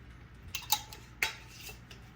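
Spoon clinking against a pot while stirring pickled beet brine, two or three light metallic knocks and scrapes, close and fairly quiet, with no talking.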